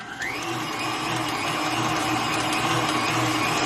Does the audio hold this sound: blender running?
yes